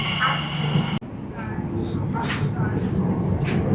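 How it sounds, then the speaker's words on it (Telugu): A train pulls into a UK railway station, a steady loud rumble of carriages rolling in and filling the platform, with a sudden change in tone partway through. "అండ్ ట్రైన్ వచ్చింది, and this is the train."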